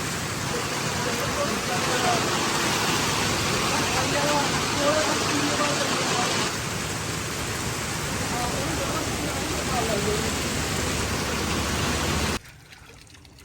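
Heavy rain pours down in a dense, constant hiss, then stops abruptly just before the end.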